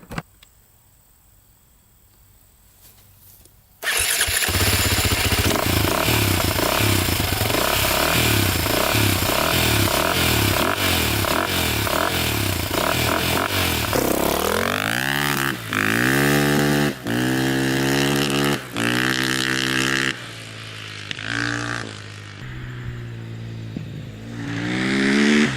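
A KTM 450 dirt bike engine idles briefly, then roars to life and revs repeatedly, climbing and dropping in pitch, loud and close throughout.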